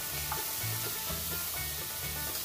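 Garlic and onion sizzle with sausage in a frying pan, making a steady, close crackling fry with light stirring scrapes and small pops throughout and no talking.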